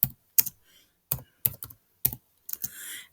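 Keys clack on a computer keyboard in about eight distinct, close taps spaced irregularly across a quiet pause-filled stretch, with no voice.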